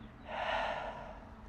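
A single slow, audible breath drawn in and let out through the nose during a guided exercise, close and soft against a quiet room.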